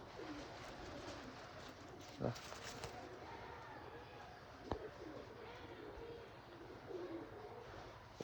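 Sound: racing pigeon cooing

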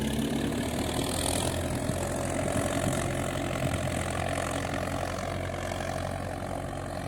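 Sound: tractor engine running

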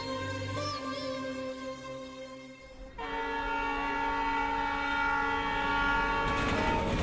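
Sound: train approaching station, sound effect

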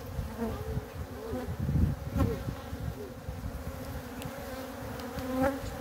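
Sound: stressed honeybees buzzing at hive

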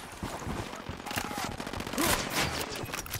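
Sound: gunfire in video game Ghost Recon Wildlands

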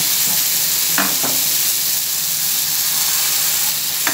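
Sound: sponge dosa batter sizzling on a hot pan

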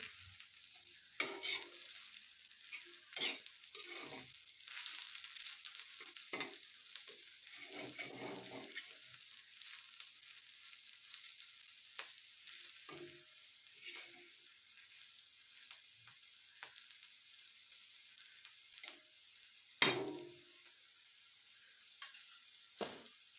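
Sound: sautéing spices with potato, onion, garlic

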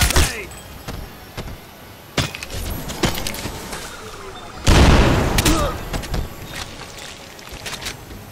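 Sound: gunfire and explosions in the video game Crysis Remasted

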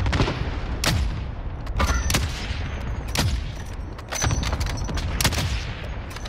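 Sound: cluster strike explosions in Warzone video game

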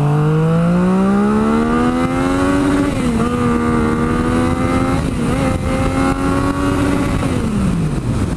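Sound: Yamaha MT-09 motorcycle engine accelerating, Two Brothers exhaust, B mode

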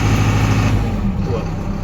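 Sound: New Holland tractor engine running at normal revs

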